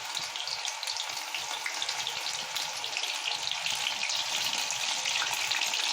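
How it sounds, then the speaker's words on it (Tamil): Mushroom pieces deep frying in hot oil in a pan for a roadside-style kalan fry, giving a steady, dense crackling sizzle that holds for several seconds with no voices. "அடுப்பில் வானலி வச்சுட்டு எண்ணெய் காஞ்சோன்னு இதை இப்படி போட்டு பொரிச்சு எடுத்துருங்க"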